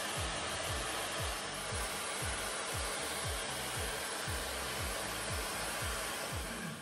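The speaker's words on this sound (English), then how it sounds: "For the blow drying, use your diffuser and then take a seat and relax." A hair dryer fitted with a diffuser blows steadily on curly hair during a curly bob cut, a loud continuous rushing airflow with a low rhythmic pulsing throughout.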